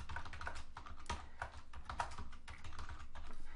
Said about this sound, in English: basically you would just type in the text here